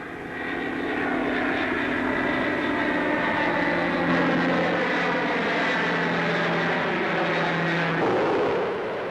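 A Handley Page Marathon 2 feeder aircraft roars past at the 1949 Farnborough Air Show, its propeller engines giving a loud, sustained drone with steady tonal hum that shifts near the end.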